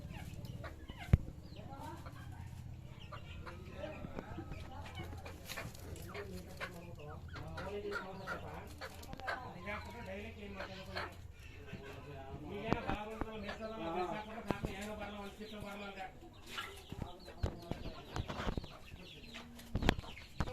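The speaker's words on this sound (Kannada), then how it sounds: "ಏನಿಷ್ಟೊಂದು ಕೋಳಿಗಳು" Chickens cluck and cackle in a village shed, with repeated calls overlapping and mixing with rustling and clatter close by; occasional voices talk among them.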